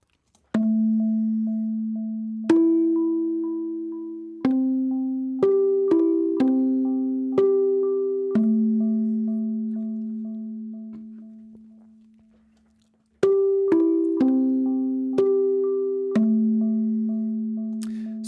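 Omnisphere's Guitarette synth preset plays a run of short, bell-like melodic notes, each struck with a crisp attack and left to ring and fade, with a brief silent gap before the phrase resumes; no voices are present.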